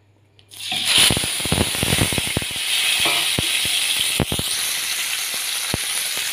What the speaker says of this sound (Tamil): ஒரு 3 நிமிஷத்துக்கு நல்லா நெய்லயே வதங்கட்டுங்க கை விடாம நாம கலக்கிட்டே இருக்கலாம்